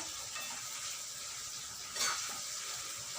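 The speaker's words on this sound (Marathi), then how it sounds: "हे पण तेलामध्ये चांगले फ्राय करून घेऊ लाल होईस्तोवर" Cashews and almonds frying in oil in a pan for a paneer and peas masala, with a continuous soft sizzle and a brief louder stir or scrape partway through.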